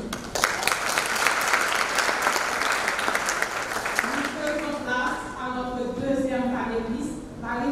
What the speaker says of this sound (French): Encore une fois, sous vos applaudissements